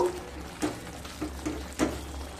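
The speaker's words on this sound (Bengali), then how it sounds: "আবারও খুব ভালোভাবে মিশিয়ে নেব।" A spatula stirs ridge gourd and prawn curry in a pan with about four distinct scraping strokes, each spaced roughly half a second apart, over a quiet steady simmer.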